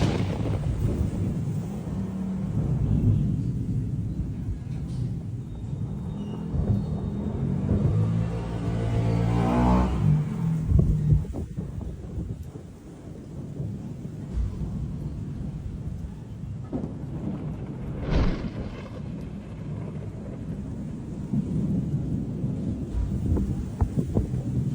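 A thunderstorm rolls on with steady rain hissing throughout, broken by deep rumbling thunder that swells into a loud crack midway and then grumbles away, with no voices present.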